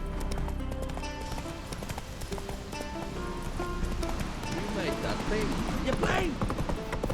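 Hooves of the horse Roach galloping in The Witcher 3, a steady clip-clop rhythm under game music, with a voice speaking briefly over it.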